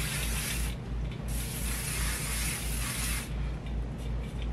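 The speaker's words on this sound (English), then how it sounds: "I like to spray it with a little hairspray right off the bat because my hair just doesn't hold great" Sebastian Shaper Plus hairspray sprayed onto hair from a nearly empty can, heard as a loud, steady close hiss in two long bursts with a brief break between them, with no talking.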